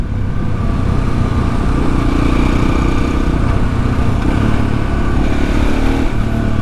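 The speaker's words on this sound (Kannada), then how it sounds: "ಹೆಂಗೆ ಹೋಗ್ತಾ ಇದೆ ನೋಡಿ ಇವಾಗಲೂ ಫೋರ್ಟೀನ್ ಇಯರ್ಸ್ ಓಲ್ಡ್ ಬೈಕ್" A 14-year-old Husqvarna SMS630 supermoto motorcycle engine roars steadily throughout while riding, loud and close, with a rough low rumble and no talking.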